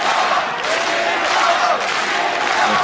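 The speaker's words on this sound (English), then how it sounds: "The fans are absolutely cheering" A crowd of fans at an MMA event roars with steady cheering and shouting, a loud, continuous wash of voices filling the arena.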